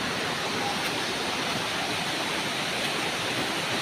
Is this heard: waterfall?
yes